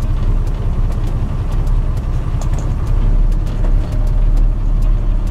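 A 1977 Hino HE 336 truck is driven, its engine giving a loud, steady low rumble with road noise and occasional faint clicks, heard close from inside the cab without talk.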